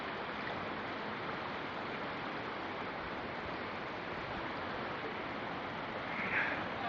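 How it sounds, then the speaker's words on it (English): Steady broadband rush of a large creek near Port Renfrew, flowing continuously and fairly loud close by, with no voices over the water. "This is going to be a very big creek."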